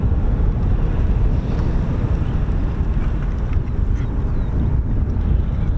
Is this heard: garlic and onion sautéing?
no